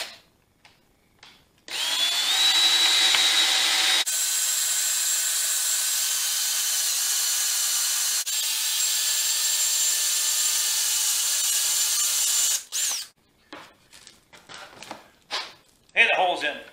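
A power drill bores a hole into a wooden breadboard, whining loud and close for about eleven seconds with a brief pause in the middle, followed by light knocks and handling sounds.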